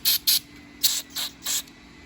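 Five short, sharp spray bursts of carburetor cleaner hit the carburetor of a 2018 Murray lawn mower with a Briggs & Stratton engine, hissing close up in an uneven rhythm with brief pauses between them.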